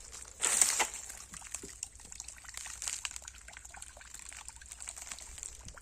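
Water trickles softly from drip irrigation pipes laid tree by tree in a farm orchard, a faint steady dribble with a brief louder splash near the start.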